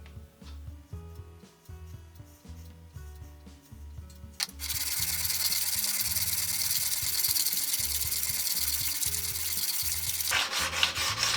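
A stamped steel blade is ground to sharpen it, with rough punched edges and thinner corners: intermittent mechanical clicking and knocking at first, then a loud, continuous abrasive rasp of grinding that runs for about six seconds before stopping.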